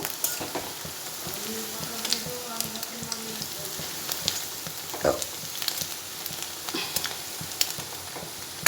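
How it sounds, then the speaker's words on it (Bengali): Steady crackling sizzle of prawn pakoras deep-frying in hot oil, with occasional clinks and stirring noises over the bubbling hiss. "পকোড়াগুলো ভাজা হয়ে গেল"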